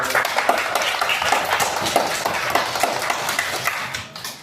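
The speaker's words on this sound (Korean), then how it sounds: "박수 주세요." Students in a classroom clap during an open history lesson. The applause is moderately loud, a quick patter of many hands that carries on steadily and then fades away at the end.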